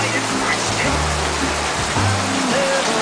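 Steady outdoor rain pouring down on a very hot day, a dense continuous hiss of falling water with faint low voices underneath.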